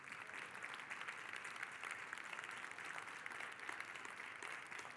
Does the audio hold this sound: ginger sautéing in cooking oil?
no